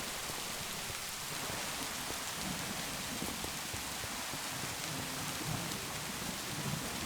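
Steady rain falls in the Minecraft video game as a continuous, even hiss of drops at a constant level, with no voices.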